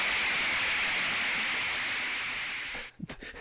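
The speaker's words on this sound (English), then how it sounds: "That is the sound of a call going through." Loud, steady rushing hiss of an old wired telephone call going through, holding evenly for close to three seconds before cutting off abruptly into a few faint clicks.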